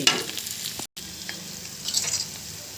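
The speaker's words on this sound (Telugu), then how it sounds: "పచ్చివాసన పోయే వరకు బాగా వేయించుకోండి" Spices fry in a pan with coriander leaves, curry leaves and coriander powder for a mutton trotters dish, giving a steady close sizzle with stirring scrapes and a brief dropout.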